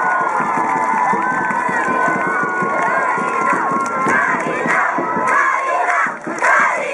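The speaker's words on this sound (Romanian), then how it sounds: "Aplauze pentru colegii voștri, toți sunteți frumoși, toți participanții!" A large crowd of students cheering and shouting for participants at a high school olympiad awards show, loud sustained yelling and whoops filling the space, with some clapping mixed in.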